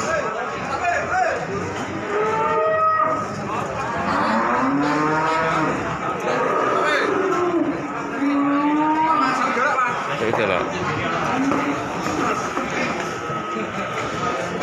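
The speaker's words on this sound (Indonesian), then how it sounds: "Sapi galak" Several cattle moo repeatedly, long low calls overlapping amid a busy crowd at a cattle market in Pati, Indonesia, with people talking throughout.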